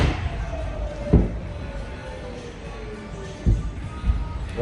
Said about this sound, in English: you can hear explosions right now. You can hear explosions.